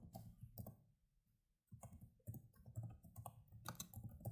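Mouse clicks and keyboard typing at a computer while entering a chart title in Excel, a few sharp close taps in short bursts with a brief quiet gap.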